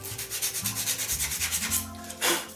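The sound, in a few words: sandpaper roughing up cork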